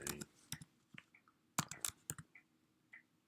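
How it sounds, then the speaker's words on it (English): A computer keyboard is typed on in short irregular bursts of quiet clicks with brief pauses between, close by and alone without talking. "So we're just going to type in our message."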